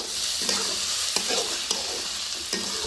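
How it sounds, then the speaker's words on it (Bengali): Cabbage sizzles and fries steadily in a pan with a bright hiss, broken by a few soft scraping stirs. "নেড়ে চেড়ে পাতাকপিটা রান্না করে নেব ততক্ষণ পর্যন্ত যতক্ষণ না এটা সিদ্ধ হয়ে আসে।"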